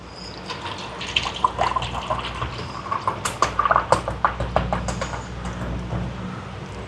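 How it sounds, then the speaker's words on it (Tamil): Milk, 800 ml, is poured for a custard pudding. It makes a close, continuous splashing and gurgling stream for several seconds. "800 ml தான் சேர்க்குறேன் பால்."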